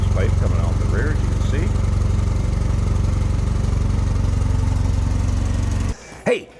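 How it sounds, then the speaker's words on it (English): A 1974 Triumph Spitfire 1500 with a single rear exhaust pipe idles close by in a steady, even, low rumble. It cuts off near the end, followed by a couple of brief, quieter knocks. "so you can hear it run here"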